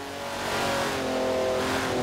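A Jaguar E-Type driving in Forza Horizon 4, its engine humming steadily and building slightly as it accelerates, close and continuous for a couple of seconds with no voices.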